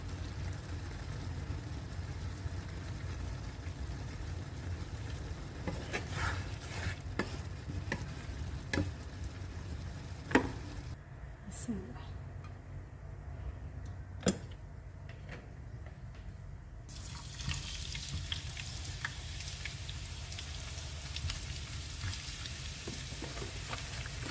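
Onions frying in a pan with oil as the tempering for a lentil and bottle gourd dish, a steady close sizzle with occasional utensil clicks and a brief quieter stretch midway.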